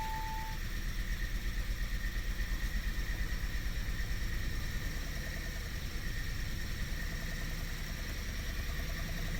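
A 2017 Kia Sorento 2.0 turbo with an injector circuit fault idles roughly with one injector cut, a steady mid-pitched engine drone and faint vibration running throughout at close range.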